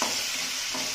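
Curry leaves crackle and sizzle loudly in hot oil for a fish fry, a dense, steady hiss that fills the full second without pause.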